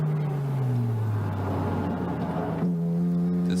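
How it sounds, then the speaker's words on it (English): Hydrogen-fuelled engine of Morizo's GR race car at a 24-hour endurance race at Fuji, a loud steady tone sliding down in pitch as the car passes, then settling into a new steady drone. "You can hear the sound of the hydrogen engine."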